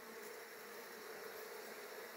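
Honeybees, including Italian bees, buzz steadily at a nest in a eucalyptus area, a dense continuous drone with no talk.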